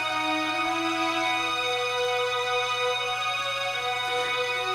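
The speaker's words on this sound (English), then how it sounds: "Oh yeah, there's strings as well, and they sound like this." A string section plays a sustained pattern of long held notes in a song, layered harmonics shifting pitch slowly over a steady low bass drone, with no voices.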